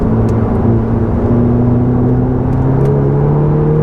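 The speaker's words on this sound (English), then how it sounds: "Drag race. Clubsport S and a Mark II." Clubsport S and Mark II cars drag racing on the Nürburgring GP circuit, their engines a loud, steady close-up drone whose pitch climbs gradually as they accelerate side by side, with no talking.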